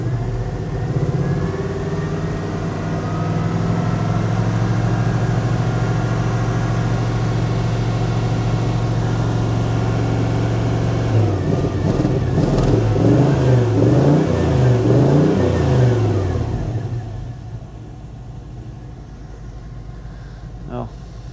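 A carbureted V8 truck engine idles loud and close, its note wavering and uneven from misfiring, then revs up and down before dropping to a quieter idle.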